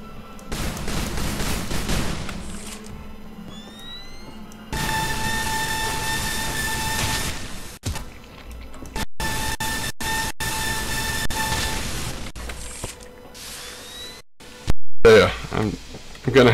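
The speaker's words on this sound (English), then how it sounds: "Finally, we will give the beam weapon a test." A beam weapon test-fired in the shooter game Loadout makes a sustained, harmonic electronic hum that runs for several seconds. Sharp cutoffs and bursts follow, and someone talks over parts of it.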